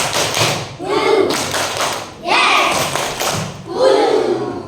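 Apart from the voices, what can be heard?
class clapping along to the 'tepuk hati ngantuk' clap chant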